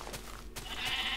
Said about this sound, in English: Let's knife some sheep.